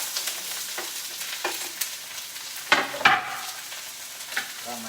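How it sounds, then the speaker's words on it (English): A vegan stir fry sizzles hot in a pan, a continuous close frying hiss broken by a few sharper stirring scrapes and pops, with no voices. "Got my stir fry going here."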